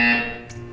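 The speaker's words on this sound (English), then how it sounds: "You will hear a buzzer." A loud electronic buzzer from the video game Portal 2 sounds as one steady, harsh tone that fades over a short moment, heard alone with no talking.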